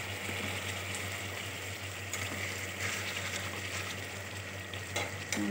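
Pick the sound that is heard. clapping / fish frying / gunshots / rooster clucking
fish frying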